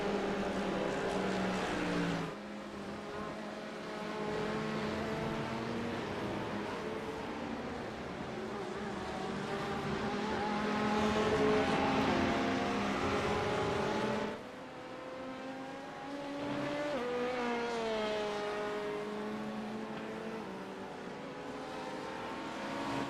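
The number 11 Delta V Racing car in a 24-hour endurance race passes close, its engine note swelling and then dropping away as it goes by, followed by another car's engine accelerating past, loud and continuous.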